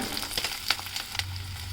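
Capsicum and broccoli sizzle in a pan as they are stir-fried, with a steady hiss broken by a few soft scraping clicks of the spatula, close and alone.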